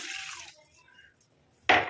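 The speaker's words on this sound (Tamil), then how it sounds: "இப்போ இதில் 1 டம்ளர் அளவுக்கு நான் தண்ணி சேர்த்துக்கிறேன்." A brief burst of water, about one tumbler's worth, splashing into a pot near the end, after a few faint clinks and a mostly quiet stretch.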